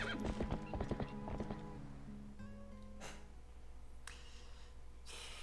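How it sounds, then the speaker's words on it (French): Horse hooves galloping in the video game Zelda Twilight Princess, with quick rhythmic clip-clop beats loud at first, then thinning out under game music and a soft whinny. "Vachement plus agréable de faire du poney."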